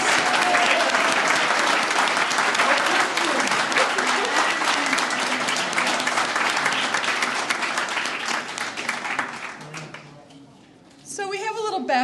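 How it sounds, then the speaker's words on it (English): Audience applause for five-year award winners at the HCRS 2023 annual meeting, a loud, dense, sustained roar of many clapping hands that fades near the end before a voice begins speaking. "How about a big round of applause for our 5-year award winners?"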